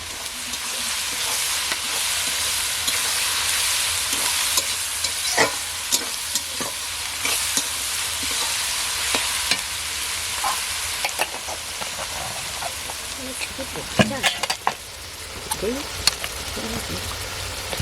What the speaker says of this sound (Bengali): পেঁয়াজ আদা লাল হয়ে গেছে